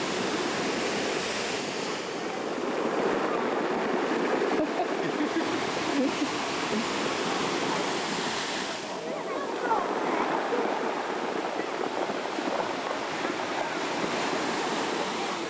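Waves wash steadily over a pebble beach under cloudy skies, a continuous broad rushing hiss with gentle surges, loud and close, with no clear talk over it.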